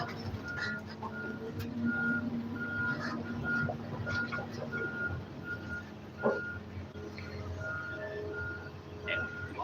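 Video game truck driving and reversing, a steady repeating backup beep over a low engine drone, with a whistle-like tone and talk in the background.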